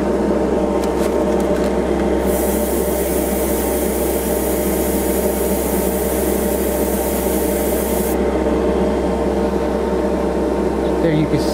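A Procon Boy LWA trigger double-action 0.5 mm airbrush with a wide angle nozzle sprays paint in a continuous, close, even hiss of rushing air that holds steady throughout.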